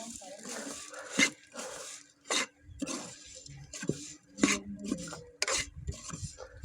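Puffed rice being stirred into hot jaggery syrup, giving repeated dry raspy scraping and rubbing bursts in an uneven rhythm, close and moderately loud, with a voice talking over parts of it.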